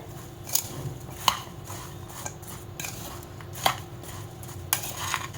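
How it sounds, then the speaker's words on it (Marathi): Green chilli pickle with salt and spices is stirred in a bowl, giving soft scraping and occasional sharp clinks of utensil on the container at an irregular pace over a faint background. "आता आपण हे व्यवस्थित मिक्स करून घ्यायचं आहे"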